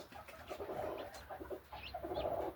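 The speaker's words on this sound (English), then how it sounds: "I just heard a chick." A newly hatching chick gives a few faint, high peeps from silkie and sebright eggs under a broody Duckwing hen, short chirps rising over soft low clucking and cooing nearby.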